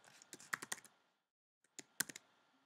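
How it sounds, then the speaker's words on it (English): Quiet, close keystrokes on a computer keyboard as an email address is typed, two short bursts of rapid clicks separated by a brief pause. "Actually, I'm just typing the Indiewood Gmail"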